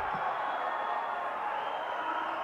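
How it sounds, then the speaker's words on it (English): Crowd noise swells at a men's pro doubles racquetball match at the US Open, a steady, far-off roar of displeased spectators filling the arena without letup, with a commentator's voice over it. "Wow, the crowd is so angry."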